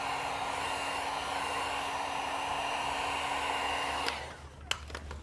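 A heat gun blows steadily and loudly while heating vinyl wrap on a Tesla Model 3 Highland rear quarter panel, then switches off near the end, leaving a few faint handling clicks.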